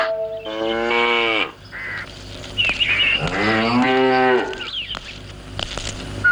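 A cow moos twice, loud and close, with long drawn-out lows, while small birds chirp in the background.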